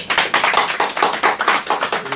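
An audience at an overseas Korean patriotic forum claps in a close, loud, steady burst of applause with no voices over it.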